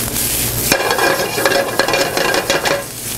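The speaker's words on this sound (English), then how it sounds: "So let's check our saute." Mushrooms and potatoes sautéing in a hot pan for a gluten-free acorn squash dish, loud close sizzling with repeated scraping stirs and utensil clicks, no talking.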